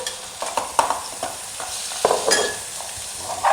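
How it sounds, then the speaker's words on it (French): Fish pieces frying in a pan for a Moroccan paella, close sizzling with several stirring scrapes and clatters, fairly loud and free of speech. "Je mets les morceaux de poisson à frire."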